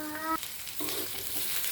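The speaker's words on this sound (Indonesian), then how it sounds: "Bawang merahnya sudah setengah matang, masukkan bawang putih dan ebinya." Shallots, garlic and dried shrimp sauté in a hot pan, a close, steady sizzle broken by scraping stir strokes, with no talking.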